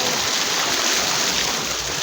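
Water flows steadily at a river swimming spot, a broad, even rushing hiss with no breaks, fairly close and loud, with no voices over it.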